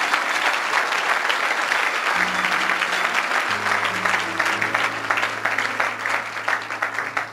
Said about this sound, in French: On acclame le Seigneur de gloire.